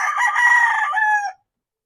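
A breeding rooster, a McLean and asil cross, gives one loud, close crow that holds steady for over a second and then cuts off sharply into silence.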